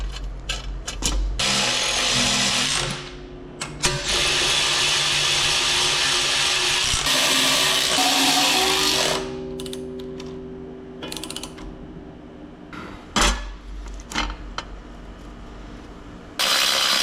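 A power tool whirs in long loud bursts, starting and stopping with clicks and knocks, as fasteners are driven to bolt a part onto a scrap-built 40 HP rotary phase converter in a workshop.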